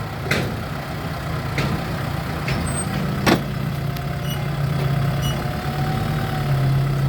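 Diesel engine of a Kubota MU5702 tractor running steadily at close range, a continuous low rumble with a few sharp clanks and knocks over it and no talk.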